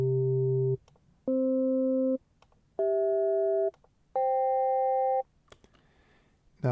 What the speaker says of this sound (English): First we do ring mode, and we keep the pitch of oscillator 2 constant at harmonic 1, and we step through the first 5 harmonics on the first oscillator